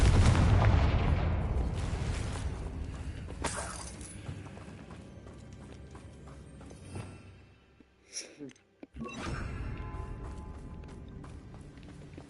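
Fiery spell blasts from Confringo being cast repeatedly in Hogwarts Legacy, loud booming explosions with crackling debris and a brief lull before another burst, set against continuous game background noise.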